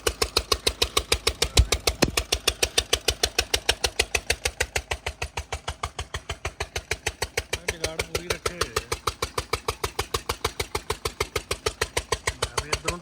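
Steady rhythmic chugging of a generator engine powering a village sugarcane crusher, loud and continuous with no pauses, one brief knock near the start.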